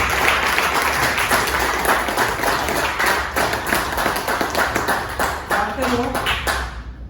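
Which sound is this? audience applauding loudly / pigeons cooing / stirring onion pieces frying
audience applauding loudly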